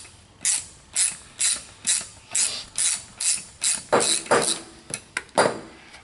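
Ratchet clicking in repeated short bursts, about a dozen even strokes, as bolts are loosened on the diverter valve of a 2007 Mini Cooper S, close and clear with no talk.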